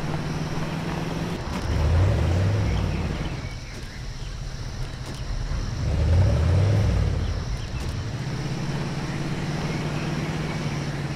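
A car engine droning in the Jurassic World Evolution game, a steady hum that rises twice in revving surges and settles again, with faint insect-like chirping in the background.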